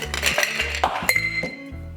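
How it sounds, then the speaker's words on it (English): Ice cubes clink and rattle into a mixing glass while a non-alcoholic Cosmopolitan is being made, a quick run of bright glassy knocks over about two seconds, close up and with no voice. "Now in a mixing glass, I'm gonna add ice"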